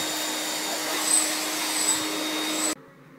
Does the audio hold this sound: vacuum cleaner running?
yes